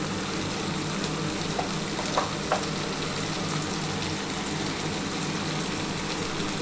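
Spices with salt and turmeric frying in oil in a pan, a steady close sizzle with a few soft stirring knocks, continuous and even throughout.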